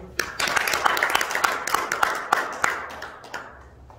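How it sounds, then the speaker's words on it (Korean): An audience at a village-republic expert forum applauds in a brief round of clapping, with fairly dense claps that thin out over a few seconds. "박수."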